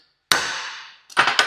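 Three sharp metallic hammer strikes on a center punch marking aluminum, one ringing out alone, then a quick pair close together, loud and near.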